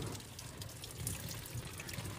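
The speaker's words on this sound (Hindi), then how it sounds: "भाई झरना तो गाड़ी का भीतर" Water streaming and trickling inside a flooded Scorpio SUV cabin, a continuous close splashing pour like a small waterfall, steady and moderately loud with no talk.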